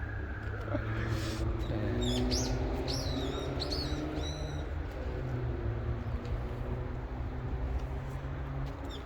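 A pair of wild birds near a blossoming purple-leaf plum tree gives repeated short chirps and call notes mid-distance, over a steady low background rumble.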